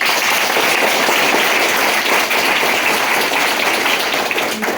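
Dense, sustained applause from a large crowd, steady and loud throughout with no pauses.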